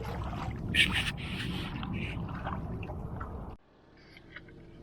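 A kayak paddles on cold open water, with dense splashing and dripping from the strokes close by for a few seconds before it stops abruptly and leaves quieter drips.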